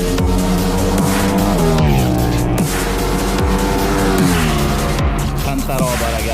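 Loud KTM 1290 Super Duke R motorcycle engine revving continuously on the Portimão race track, pitch climbing and dropping through gear changes as it accelerates hard, close to the microphone.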